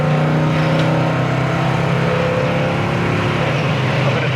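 A 1970 Dodge Challenger R/T engine pulls hard through its gears, a loud, steady, low drone heard close from inside the car, with no clear break between shifts.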